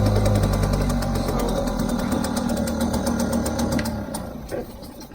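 An old two-stroke outboard boat motor runs close by with a rough, buzzing drone that holds steady, then eases and thins toward the end, no talk over it.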